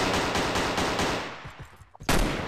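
Rapid automatic gunfire in a CSGO-style mobile first-person shooter game, a loud continuous burst of shots that tapers off, then one sharp blast near the end.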